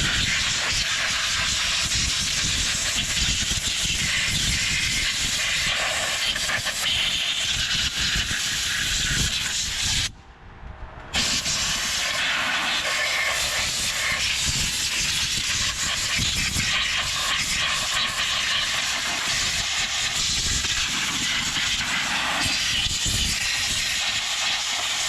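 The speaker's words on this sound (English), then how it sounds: "I'm gonna blow it out with this hose" Compressed air blasts through a hose to blow debris out of a 1996 Craftsman LT1000 lawn tractor, a loud, steady hiss that runs for many seconds, stops for a brief moment, then resumes.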